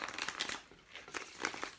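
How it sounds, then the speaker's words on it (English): Tarot cards being shuffled by hand, a run of soft papery riffles and crinkly rustles in uneven bursts, close and fairly quiet, with no talking. "I'm gonna do just a couple more shuffles"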